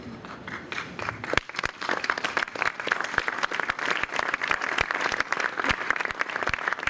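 Sustained audience applause fills a hall at a spirituality festival in Milan, a dense, steady wash of many clapping hands with sharper individual claps popping out, continuing evenly from start to finish.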